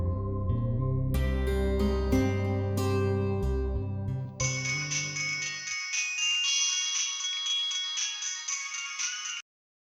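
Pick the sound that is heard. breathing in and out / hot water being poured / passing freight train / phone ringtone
phone ringtone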